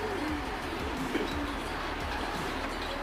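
Soft, low coos of racing pigeons repeat in a steady background hum of outdoor noise, fairly faint and unhurried, with no voices.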